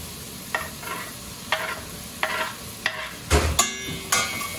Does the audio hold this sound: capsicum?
yes